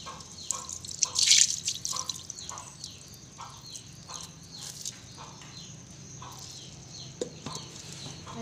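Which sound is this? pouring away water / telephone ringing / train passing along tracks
pouring away water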